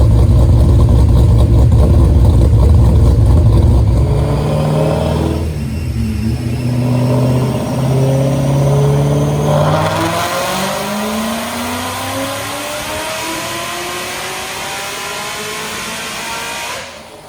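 A 2014 Ford Mustang GT500 with Detroit Rocker cams on stock boost roars through a dyno pull, a loud lopey engine climbing steadily in pitch, dipping briefly, then revving up again before easing off.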